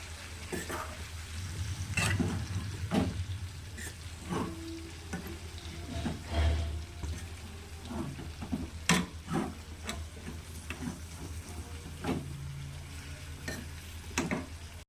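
Chicken with red chili powder, salt and turmeric fries in a hot pan with a steady sizzle, punctuated by sharp scraping and clinking as it is stirred, close and moderately loud.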